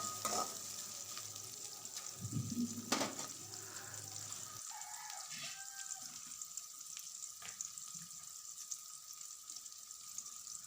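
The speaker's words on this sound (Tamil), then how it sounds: "இப்போ ஃபுல்லாக ஈவனாக எல்லாமே மிக்ஸ் பண்ணுறோம்." Tamarind curry mixture with drumsticks and beans stirred in a pan, a steady sizzle with scraping and clinks of the spoon, plus a brief watery splash near the start.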